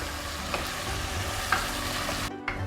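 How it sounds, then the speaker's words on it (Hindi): Onions frying in a pan for a beef kofta curry give a steady, close sizzle with a few light stirring scrapes and no talk. "इसको हम फ्राई करते हैं।"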